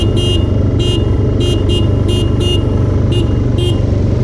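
A supermoto motorcycle on a Christmas ride holds a loud, steady engine drone close by, with short high-pitched bursts recurring about every half second over it; no one speaks.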